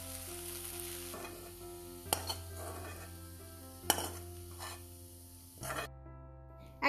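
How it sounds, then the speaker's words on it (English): Fried ingredients for Telangana chutney are moved to another plate, with scattered clinks of a utensil against metal cookware over a faint background sizzle, several sharp knocks standing out. "We will transfer this into another plate."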